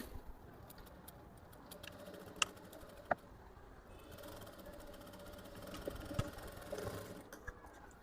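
A sewing machine runs while stitching a blouse, a soft steady mechanical whir with faint rhythmic ticking and a few sharp clicks, fairly quiet and close, with no talk over it.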